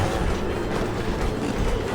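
A train in the Western video game Red Dead Redemption rumbles loudly and steadily with a dense, continuous roar and faint rail clatter, no voices over it.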